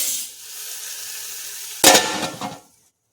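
Butter poured over a hot coal set in a bowl inside a pot of chicken rann, for smoking. It gives a sudden loud sizzle and hiss that bursts up and then fades over about a second, after a steady background hiss.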